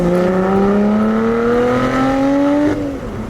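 Lotus Evora GT with a Toyota-sourced 3.6-liter supercharged V6 revs hard under acceleration, pitch climbing steadily before easing off, loud and close from inside the car with no talking.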